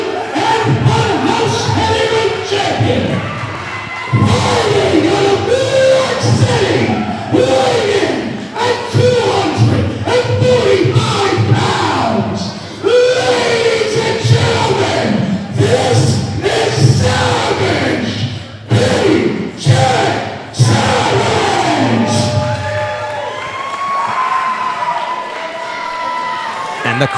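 A wrestling crowd in Toms River, New Jersey, roars and cheers steadily for hometown favorite PJ Savage during a TCW Heavyweight Championship match. Shouts, thuds and a commentator's voice sit over the sustained noise.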